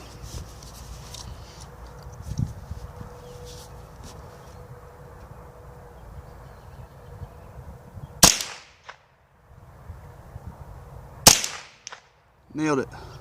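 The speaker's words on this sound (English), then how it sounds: "let's take our first shot here" A rifle topped with a Beretac 4.5-18x44 tactical hunting sniper scope fires outdoors: a sharp, loud crack, then a second hard crack about three seconds later and a brief rattling burst, over faint background hiss.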